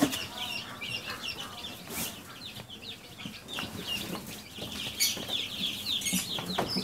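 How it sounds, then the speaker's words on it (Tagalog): Thirty-nine newly hatched chicks peep constantly in a brooder, a dense overlapping chorus of high chirps that stays close and steady throughout, with faint background movement. "39 na sisiw"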